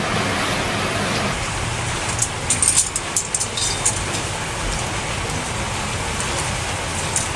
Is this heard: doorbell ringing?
no